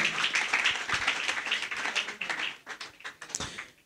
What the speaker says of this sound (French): Est-ce qu'on peut applaudir pour Régine Banza